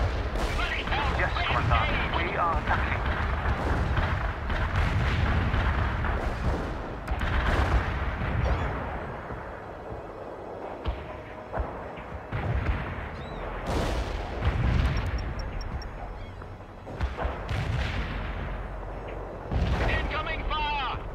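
Heavy artillery fire in the World in Conflict strategy game, with repeated deep booms and blasts rolling throughout, mixed with radio-style voice callouts and battle noise.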